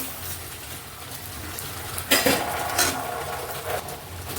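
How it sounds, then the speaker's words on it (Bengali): Moong dal fries in a pan with a light sizzle, broken by a sharp metallic clatter of a utensil midway and a few softer scrapes afterward. "আমি এবার এই ডালটা ভাজতে দেবো।"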